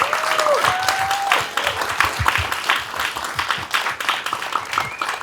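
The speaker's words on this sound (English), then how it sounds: "Big round of applause for Ja'Hari Ortega and Destiny Palmer." An audience at an evening artist talk breaks into warm applause, continuous full clapping from a room of people that holds steady across the whole stretch.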